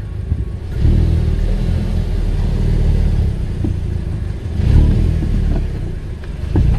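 An Audi TT Mk2 pulls off a driveway, its engine rumbling steadily and rising slightly as it moves, close and fairly loud with a mid-range motor note and no talking.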